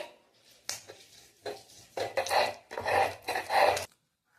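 Spinach being ground on a stone grinding slab (shil nora): about six rhythmic scraping strokes, growing heavier and longer, then a sudden stop into silence.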